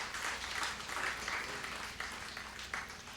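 Faint, steady applause from an audience honouring a music icon, a soft continuous wash of clapping heard at a distance throughout.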